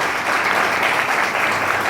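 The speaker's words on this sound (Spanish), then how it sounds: "para que pida un fuerte aplauso" A short, loud burst of audience applause rings out, dense and continuous clapping from a crowd with no other sound standing out.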